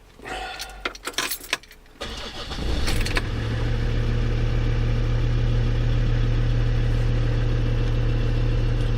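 Keys jingle briefly, then a Land Rover Discovery 2 engine cranks and catches, settling into a steady, close idle that continues to the end.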